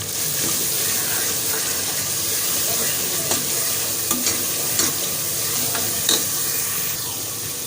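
Steady close sizzle of garlic-ginger paste frying in a pan, a dense crackling hiss with a few scraping stirs and soft clinks throughout.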